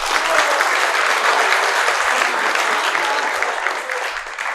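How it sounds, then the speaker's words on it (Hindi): Audience applause fills the whole stretch, a dense steady clapping from a crowd that stays loud throughout and eases only slightly toward the end, with no voices standing out. "इसमें ताली बनती थी।"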